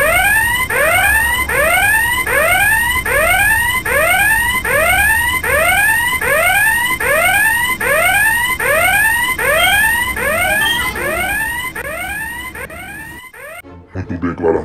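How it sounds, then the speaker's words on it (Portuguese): Alarm wailing over and over in rapid rising sweeps, a loud electronic siren that repeats steadily for about thirteen seconds, then cuts off abruptly. "Vou acionar o alarme."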